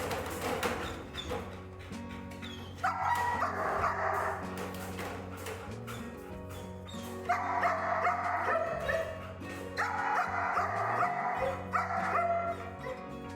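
A German shepherd that grows anxious when left alone barks and yips in repeated bursts, fairly close and steady, with louder stretches recurring through the clip.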